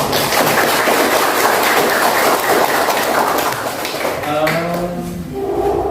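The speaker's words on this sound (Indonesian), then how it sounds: "Kita beri tepuk tangan dulu" A classroom of students applauds together after a classmate's work is praised, a dense, steady clapping filling the space for several seconds before a teacher's voice comes in near the end.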